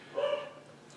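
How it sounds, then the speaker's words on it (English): A single short bark from an excited pet dog waiting to go outside, fairly faint and quick, followed by quiet room tone. "My dog is barking and it's messing my train of thought."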